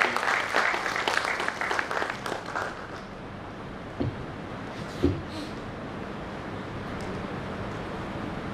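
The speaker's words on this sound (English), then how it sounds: "if you give a big round of applause for Sir" Applause from the audience at the inauguration of an annual law conference, fairly strong for the first two or three seconds, then fading quickly into room noise with a couple of isolated knocks.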